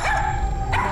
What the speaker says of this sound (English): All I hear is annoying barking